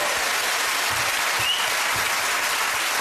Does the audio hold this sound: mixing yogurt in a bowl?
no